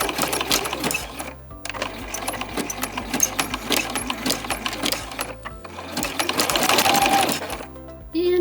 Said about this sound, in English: Now I'm going to sew my ends of elastic together with a stretch stitch